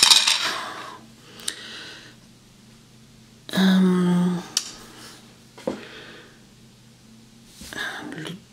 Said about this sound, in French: le deuxième joueur lance les dés